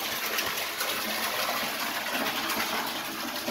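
A water pump pushing water out of a farm cistern, heard as a continuous, loud rushing gush that stays even throughout, with no talk over it.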